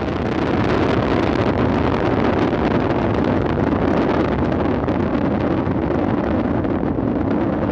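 A Soyuz rocket lifts off with four boosters and a single engine firing, making a continuous loud, rumbling roar that holds steady without a break.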